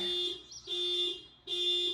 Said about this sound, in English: Don't mind that alarm.